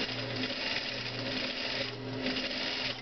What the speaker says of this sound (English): So I'm going to do that stay stitch here, just slightly less than a 1/2 inch